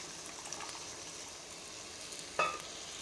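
Tamarind juice goes into bisi bele bath masala frying in oil in a pan, giving a faint, steady sizzle. It ends in a short, sharper splash-like burst near the end.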